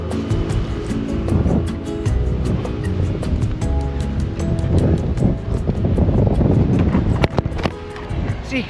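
Heavy wind buffets the microphone of a rider on a motorbike on a road in the Philippines, a loud continuous roaring rumble that swells and falls, with the engine droning underneath.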